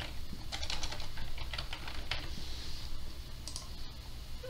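A computer mouse clicks amid quick keyboard-like tapping, a handful of light close clicks over a low steady room hum, with no talking.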